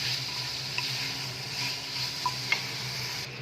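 Marinated chicken frying on low heat in a pan, a soft continuous sizzle with an occasional faint tick or pop, fairly quiet and steady with no talking.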